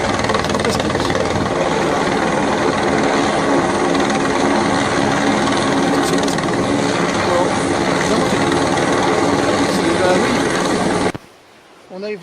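A helicopter flies over the mountains near the Grand Bassin waterfall on Réunion Island, its loud, steady rotor and engine roar filling the air before it cuts off abruptly near the end.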